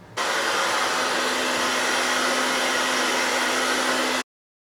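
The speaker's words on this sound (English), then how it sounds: "So now I'm going to go and dry my hair and curl it." A hair dryer switches on and runs at a steady, loud whirring drone for about four seconds while rough drying hair, then cuts off abruptly into silence.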